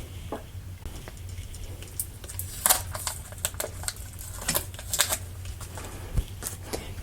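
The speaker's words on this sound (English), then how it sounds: "Now I will remove the tape" Adhesive tape being peeled off a freshly wound wire coil on a PVC form for a synchronous motor: intermittent crackly ripping bursts, close and fairly quiet, over a steady low hum.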